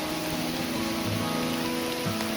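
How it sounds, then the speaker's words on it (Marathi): Steady rain falls during a monsoon trek through the Ganesh Ghat route to Bhimashankar, a dense even patter close around with a faint low tonal hum beneath and no voices. "पूर्ण पाऊस चालूच आहे मित्रांनो कंपल्सरी"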